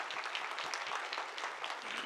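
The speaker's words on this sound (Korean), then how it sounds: "우리 박수로 우리 환영하고" A church congregation at a Sunday morning service claps to welcome a family, a dense, even patter of many hands filling the room throughout.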